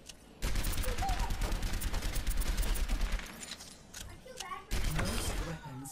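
Weapon fire hits training bots in the Overwatch tutorial: a long, rapid burst of close gunshots, a short lull with a few scattered shots, then another fast volley.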